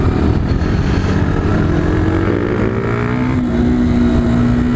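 A Sinnis Scrambler and an Apache motorcycle riding home in the rain, their engines a loud, continuous close drone whose pitch climbs steadily partway through as one accelerates.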